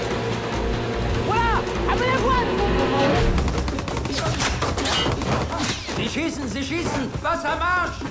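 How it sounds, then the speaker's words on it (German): Rapid bursts of gunfire crack out in a film attack scene at sea, dense volleys alongside a boat engine's roar, with voices shouting through the shooting. "Sie schießen!"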